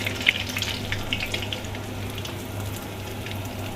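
Jalebi batter frying in a pan of hot oil, giving a steady close sizzle with a few sharper pops near the start, alone without talk.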